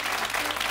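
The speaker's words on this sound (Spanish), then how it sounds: "Te agradecemos mucho, Cote, el aplauso y nuestro cariño." Studio audience applause on a TV show, a brief, steady burst of dense clapping from a crowd.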